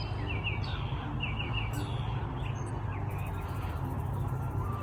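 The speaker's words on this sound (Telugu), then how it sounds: "బర్డ్స్ సౌండ్స్ సన్ రైజ్తో బాగుంది కదా" Small birds chirp at sunrise in a US neighborhood, quick high tweets repeating over a steady low rumble of background hum, fairly distant.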